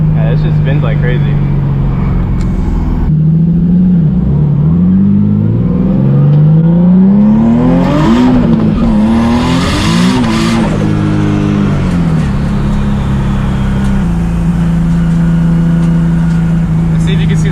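A 900hp Nissan 370Z spins its tires, its engine roaring loudly as the revs climb and fall with a tire squeal, while a voice is heard over the noise.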